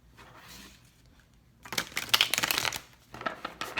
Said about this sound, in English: So I've already shuffled the cards. I guess I'm gonna do one more shuffle.